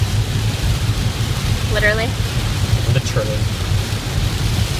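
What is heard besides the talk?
rain falling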